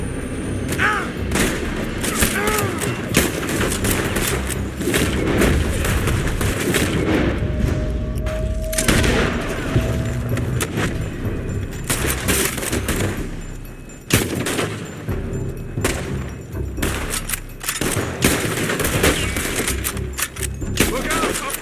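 Dense, loud gunfire from a building in Red Dead Redemption 2, rapid rifle and pistol shots layered over one another nearly without pause, with shouted voices mixed in.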